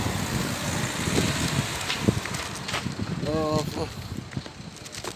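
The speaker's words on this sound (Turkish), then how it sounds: "Biraz rüzgar da var." Steady wind rushes and buffets across the microphone outdoors, a constant rough noise, while voices talk faintly underneath.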